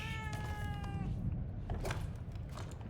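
A cat meows once in The Evil Within 2, a single harmonic, slightly falling cry of about a second, moderately clear over low game ambience and rumble.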